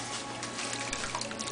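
Water drains from a tourtière pie filling held in a large strainer, a steady, close splashing trickle that runs unbroken through the whole moment with no talk.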